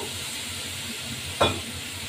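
Water poured into a hot cooking pan gives a short sudden hiss and sizzle over steady cooking background noise, brief and close.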